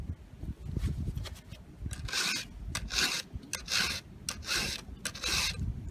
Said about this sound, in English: you're filing that till that shiny stuff is gone off the top of the tooth